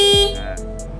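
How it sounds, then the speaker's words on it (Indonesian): A Honda Vario 125 scooter horn gives one short, loud, buzzy electric honk at the start, then stops abruptly, leaving a quieter hum. "klakson masih kenceng."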